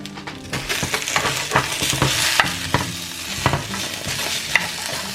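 Onion cooking in a pan for a potato soup, a close steady sizzle broken by frequent spoon scrapes and stirring knocks; no voices.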